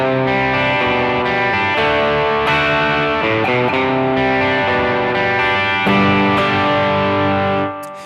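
Distorted electric guitar strums the chorus of a song, with dense, loud chords and picked notes mixed between them, ringing steadily for about eight seconds before cutting off.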